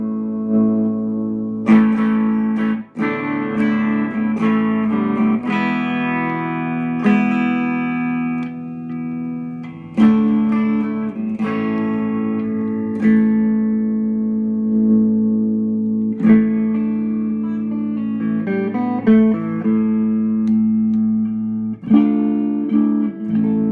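Clean-channel Stratocaster fitted with humbuckers played through an Egnater Rebel 30 amp at low power: a run of plucked chords and single notes, each attack ringing out and decaying, played alone without talk.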